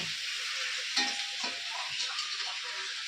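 Masala sizzling while being sautéed in a pan before bhetki fish goes in, a steady bright frying hiss with a few soft stirring scrapes, close and alone.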